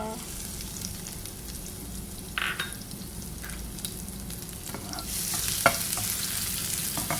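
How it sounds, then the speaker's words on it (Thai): Chili and garlic sizzle and crackle in a hot wok while being stir-fried for Thai basil pork, with occasional scraping of a spatula and the sizzle swelling louder near the end. "ผัดพริกกับกระเทียมให้หอมเลยนะคะ"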